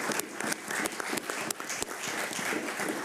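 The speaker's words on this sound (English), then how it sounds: "That deserves applause." Applause from the audience at a county commissioners' regular meeting, a dense, even patter of many hands clapping at moderate volume for about three seconds, with no voices over it.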